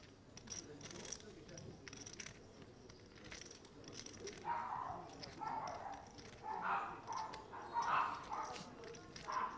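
Dogs bark in a casino during the final day of a poker tournament main event in Northern Cyprus, a series of moderately loud barks in the second half, with commentators talking and room chatter around them.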